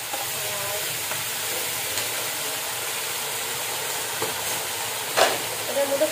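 Potatoes with onion stalks fry in a pan with a continuous soft sizzling hiss, fairly even throughout, and a few brief clinks and stirring sounds near the end.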